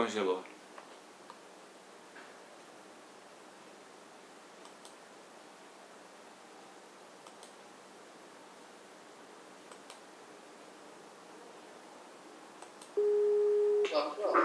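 A steady telephone busy tone sounds for about a second and a half near the end of an internet call after the line drops, following a long stretch of quiet background hiss.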